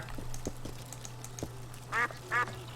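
Two short quacks from a duck in The Witcher 2, mid-distance, over a low steady hum with scattered soft clicks.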